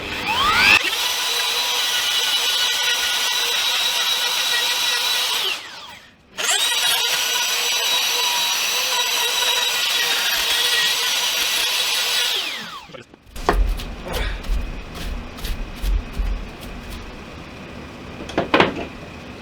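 Electric router cutting a cavity into a wooden guitar body, a loud sustained high whine running in two long passes with a brief drop between, then stopping into scattered knocks and handling clatter.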